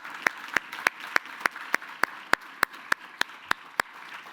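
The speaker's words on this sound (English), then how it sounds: "So let's give a round of applause to our board." A conference audience applauds its board members with sharp, evenly spaced claps in a steady rhythm, about three per second, with no talk.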